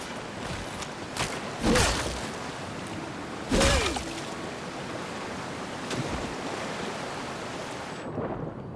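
A waterfall in the Avowed fantasy game roars as a continuous broad rush of falling water, with a couple of louder whooshing swells and splashes rising above the steady wash.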